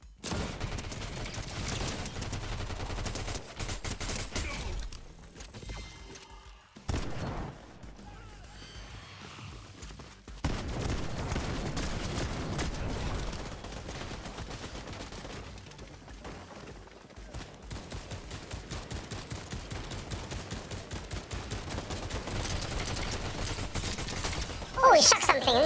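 Gunfire in the battle game Fortnite: rapid bursts of shots and clattering reports repeat through long stretches of the clip. The firing stays moderately loud, breaks off twice in short lulls, and a voice talks over it at times.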